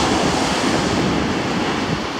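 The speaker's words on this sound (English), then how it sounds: "We're on Sanur Beach." Ocean surf at Sanur Beach, Bali, during a heavy swell, a continuous close wash of breaking waves mixed with wind rumble on the microphone.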